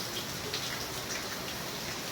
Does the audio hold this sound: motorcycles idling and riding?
no